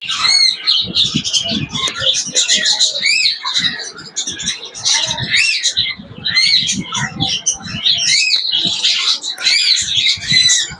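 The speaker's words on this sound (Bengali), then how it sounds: "দেখুন বন্ধুরা, রয়েছে পায়রা" Caged birds at a large wholesale bird shop in Contai fill the air with a dense chorus of shrill chirps, squawks and whistles, close and continuous, with occasional low grunting and fluttering sounds underneath.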